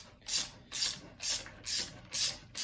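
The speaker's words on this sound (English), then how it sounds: "Get the socket wrench, and we'll just feed it on through" A socket wrench ratchets a bolt through a wooden hot rod pedal car, six even, rasping strokes in a steady rhythm, close and loud.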